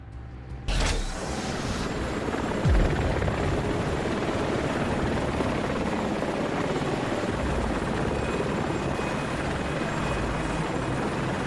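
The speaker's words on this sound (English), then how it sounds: "You said helicopter right there? That's Grindor." A helicopter in a Transformers video game roars loud and continuous with a dense, steady rotor wash and engine drone, starting abruptly and holding at full strength throughout, with no voices.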